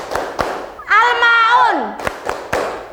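A school class claps sharply in a chant, with a couple of quick claps before and after a sung or chanted phrase from the group.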